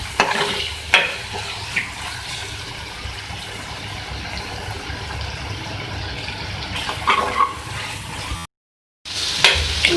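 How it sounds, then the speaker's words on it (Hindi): Roasted, ground coriander and cumin are stirred with tomatoes in a frying pan for an arvi karahi, giving steady scraping and sizzling with a few louder knocks and a short break near the end. No one speaks. "तो मिक्स कर लें टमाटर के साथ"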